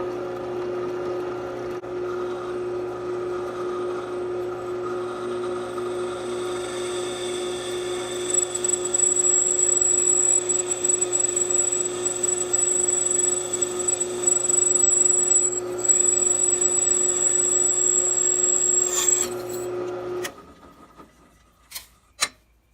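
A drill bores a hole in a wooden piece held in a V-block jig, its motor whining at a steady pitch for about twenty seconds and then winding down, followed by a few light knocks.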